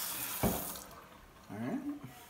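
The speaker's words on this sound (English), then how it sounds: "I should rinse it off before I do that." An item rinsed under a running kitchen tap: a brief splash of water, a pause, then another short burst of flowing, splattering water, fairly quiet and close.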